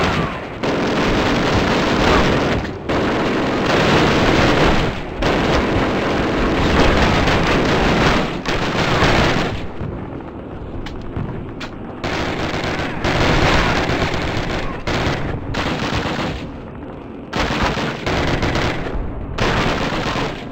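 Gunfire and rapid machine gun bursts from the Call of Duty video game on PC play loud and dense as a squad advances, broken by a few brief gaps, with shouted voices in the mix.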